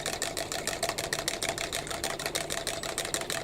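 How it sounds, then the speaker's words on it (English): An egg whisked into milk for scones in a school kitchen, with rapid, evenly spaced strokes rattling against the bowl in a steady close-up rhythm. "I'm going to whisk and ensure that it is mixed properly"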